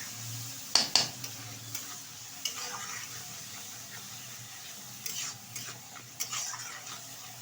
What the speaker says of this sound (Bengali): দিয়ে দিচ্ছি বেটে রাখা জিরে আদা আর লঙ্কা একসাথে, ভালোভাবে কষিয়ে নিচ্ছে